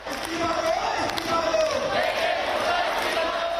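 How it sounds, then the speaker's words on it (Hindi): Protesters clap and chant slogans in a sustained, noisy crowd roar with sharp claps scattered through it. "बाकी लोगों ने तालियां बजाकर और नारेबाजी कर अपना गुस्सा जताया"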